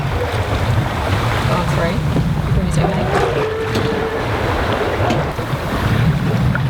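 Wind and waves aboard a sailboat under sail, with the wind on the quarter after the engine is shut off: a steady loud rush of wind buffeting and water wash, with a brief exclamation.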